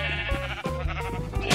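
Sheep bleat in Minecraft, a wavering harmonic call held close and loud for over a second over steady game music.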